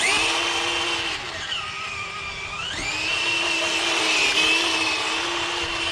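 Small electric motor of an SG 1203 RC drift tank on a 2S LiPo whines steadily at a high pitch, rising and falling as the throttle changes, close and fairly quiet, with no talking.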